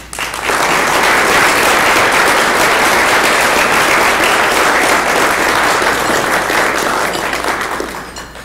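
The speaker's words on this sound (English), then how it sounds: "Ladies and gentlemen, please join me in applauding Justice Sullivan" A conference audience at an Access to Justice event claps in loud, sustained applause that swells quickly, holds dense and even for several seconds, then tapers near the end.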